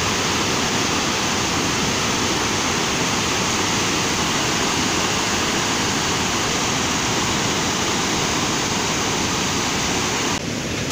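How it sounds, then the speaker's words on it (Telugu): Water pours through two raised gates of the Musi project dam at Kethepally in Nalgonda district, a loud, unbroken roar of rushing water that lasts the whole time. "రెండు గేట్లను ఎత్తి అధికారులు నీటిని దిగువకు విడుదల చేశారు."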